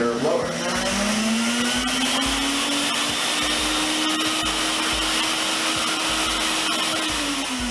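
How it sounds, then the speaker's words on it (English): A Sirena water-filter vacuum system, set up as an inflator blower, winds up and roars with a steady, loud motor whine that holds throughout and eases slightly at the end, close by. "when you turn on, it is now a inflator blower."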